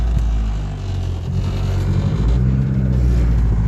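A modified Honda car without power steering pulls away, its engine a loud low rumble that dips briefly then builds steadily as it moves off.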